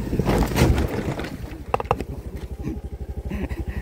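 A motorcycle climbs a hill road with a close, rough engine. A clattering start gives way to rapid, even firing pulses in the last seconds.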